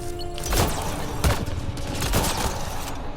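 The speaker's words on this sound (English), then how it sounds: "Get down! Sniper!" Sniper fire in the Mass Effect Andromeda video game: three loud sharp gunshot cracks spaced about a second apart, each with a short echoing tail over steady game ambience.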